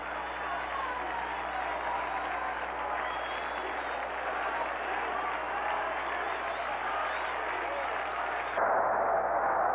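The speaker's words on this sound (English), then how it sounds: "This crowd is not going to be able to talk tonight. Listen to them." A baseball stadium crowd roars after a strikeout in a 1978 Yankees–Angels game, a dense, loud, sustained cheer that fills the whole stretch with no break.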